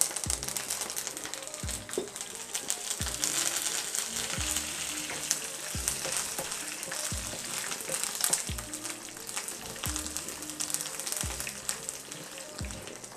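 Dried red chillies and curry leaves fry in hot oil with a continuous close crackling sizzle, punctuated by regular spoon stirs and scrapes every second or so throughout.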